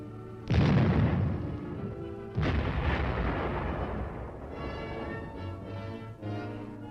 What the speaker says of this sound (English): The M52 105-millimeter howitzer provides support from close range for the armor team.